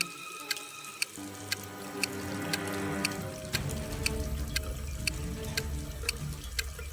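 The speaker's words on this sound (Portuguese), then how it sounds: "uma sala que está lentamente ficando cheia de água que sai de uma torneira na parede" Water runs from a wall tap into a room that is slowly filling, a steady gushing flow with regular bright drips or plinks at a fairly even rhythm, faint and alone.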